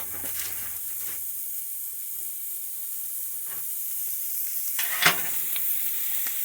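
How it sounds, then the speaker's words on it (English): Ribeye steaks searing on a hot grill, a steady bright hiss of sizzling fat and juices throughout, close and continuous, with a few soft pops and a brief louder crackle near the end. "We're going to flip them. Put it right on the nice hot grill."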